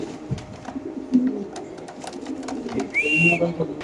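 Racing pigeons, including a red checker bird, cooing softly in a loft, low murmuring coos scattered through the clip with a brief higher call near the end, amid faint background noise and possible muffled voices.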